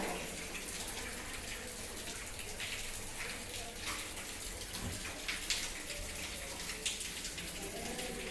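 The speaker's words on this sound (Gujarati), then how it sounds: "વરસાદ બંધ થતો નથી." Steady rain pours down at a low, even level, a continuous hiss with scattered drips, no voices standing out.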